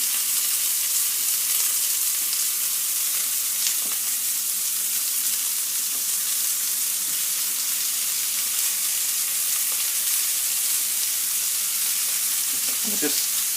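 Onions frying in a pan alongside beef burgers, a loud, continuous close sizzle with a few faint stirring knocks and no talk.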